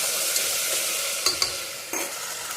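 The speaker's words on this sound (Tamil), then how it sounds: "போட்டுட்டு நல்லா வதக்கி விட்டுக்கோங்க" Onions with tomato, green chilli and ginger garlic paste sautéing in a pan: a steady close sizzle and hiss of frying, with a few brief scrapes of stirring, no voices.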